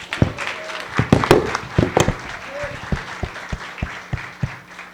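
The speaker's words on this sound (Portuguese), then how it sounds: "Acho que esse merece um aplauso também." Church congregation applauding during a celebration service, dense broadband clapping mixed with crowd noise, sharp louder hand claps standing out in a rough rhythm near the mic, lingering voices and murmurs underneath.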